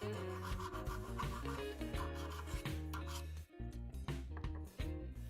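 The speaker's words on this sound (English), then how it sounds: "I then use my file to remove the small brims of the drilling." Close, steady back-and-forth rasping of a hand file removing burrs from freshly drilled holes in metal parts of a Taylor Jumbo Crane model, repeating in an even rhythm of short strokes.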